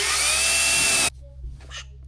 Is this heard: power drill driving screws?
yes